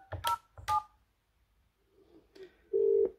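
A handset keypad dials a second number, with two crisp, close dual-tone beeps followed by a pause, a few softer tones and a final longer steady tone.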